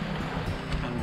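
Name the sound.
sea waves and wind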